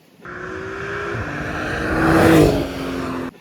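Engine of a 2017 Porsche 911 Carrera 4S, loud and close, holding a steady tone before swelling in a rising rev and then settling, cutting off abruptly at the end.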